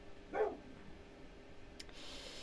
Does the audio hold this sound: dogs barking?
yes